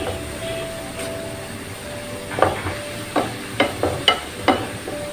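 Tomatoes and ground coriander with spices frying for dal mash, a soft sizzle under a low hum, then several sharp spoon knocks and scrapes against the pot.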